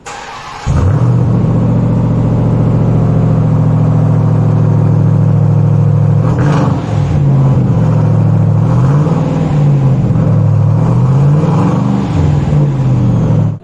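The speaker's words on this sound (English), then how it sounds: "I'll leave a clip of how this car sounds, and also maybe I might try getting the superchargers noise also" A 2021 Ram TRX pickup with its 702 hp supercharged engine starts up and idles with a deep, loud rumble, then revs several times in rising and falling swells, close to the microphone with no talking.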